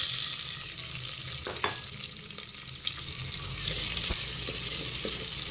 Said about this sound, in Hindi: कुकिंग ऑयल गरम हो गया, अब मैं इसके अंदर अनियन ऐड कर दूंगी।